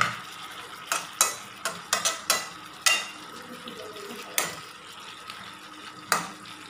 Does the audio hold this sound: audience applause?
no